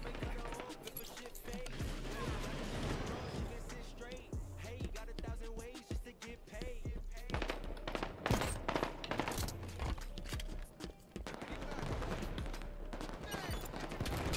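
Heavy weapon fire in Halo 5 multiplayer on the Ghost Town and Construct maps, a missile pod turret pounding away in dense, continuous bursts with sharp impacts, loud and relentless amid other battle noise.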